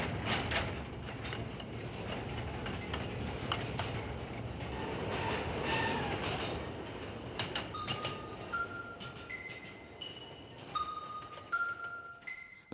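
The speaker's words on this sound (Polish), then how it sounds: "Gdy usłyszysz sygnał lub dźwięk nadjeżdżającego pociągu," A mine train in a copper mine rumbles and clatters steadily as it approaches, loud and close, with metallic clicks and high whining tones rising in the later seconds.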